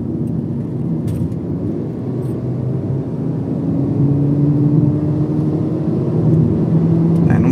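A Volkswagen Polo GTS fitted with a downpipe accelerates along a rural road, its steady engine drone rising in pitch and growing louder as revs climb, heard from inside the car.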